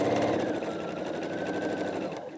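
Sewing machine stitching a quilt block seam during center piecing, a steady close whirring hum that runs continuously, then stops briefly near the end.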